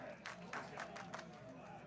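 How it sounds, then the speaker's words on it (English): Baseball crowd at a high school sectional championship game cheering and clapping in a tied late inning, a steady distant roar with bursts of claps, heard faintly through a radio broadcast. "Crowd getting into it here."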